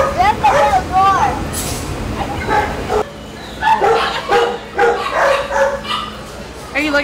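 Puppies at the Harris County Animal Shelter yip and bark repeatedly, with whimpers mixed in, while people talk over and between the barks in a crowded, echoing room.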